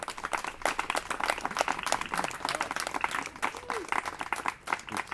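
Audience applause following a piano performance, dense steady clapping from a crowd filling the room, with some voices mixed in.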